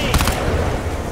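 Gunfire in the sci-fi shooter Crysis 2, with a rapid cluster of shots near the start. A dense, continuous battle roar follows, heavy with low rumble, and shouting in the mix.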